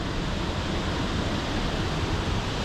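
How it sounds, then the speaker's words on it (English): Reekie Linn waterfall in Scotland, heavy with spray: a constant, loud, close roar of falling water, broadband and unbroken, with a hint of wind rumble. "there's so much spray and so much water in the air from the waterfall"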